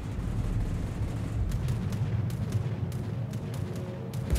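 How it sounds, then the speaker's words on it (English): Bombs from the carrier Ranger strike a warship in World of Warships under a constant low rumble of battle, with a string of sharp impacts and cracks spread through the second half. "Oh, the Ranger bombs me and sets a fire."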